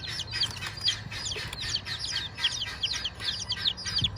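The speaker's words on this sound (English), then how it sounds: "you're hearing our big chickens and guineas over there" Chickens and guinea fowl call at a distance, a busy stream of repeated chattering cries and clucks running steadily throughout, fairly faint over a low background hum.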